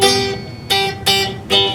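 Guitar plays the first octave-region shape: four ringing strums, each struck firmly and left to decay, at a steady moderate pace and heard up close with no talking.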